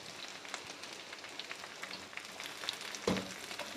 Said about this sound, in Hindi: जितनी देर में भिंडी फ्राई होती है मैं इसको कवर अप कर देती हूँ